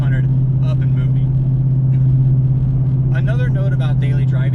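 A 2013 Ford GT500 with LTH primaries and a 2-inch exhaust runs with a loud, deep, steady exhaust drone close by, under a voice speaking in bursts.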